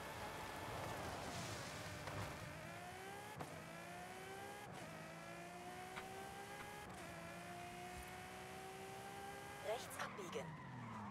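A Ferrari races through Forza Horizon 5, its engine holding a steady rising whine that climbs through gears with brief tire skids, a short burst of extra noise near the end, and someone talking over it.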